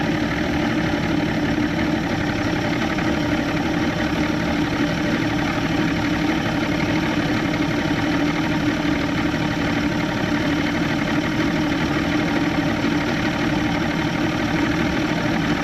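An Evinrude 150XP outboard motor on a McKee Craft boat idles steadily with a constant low rumble and droning hum, close and unbroken throughout, with no talking.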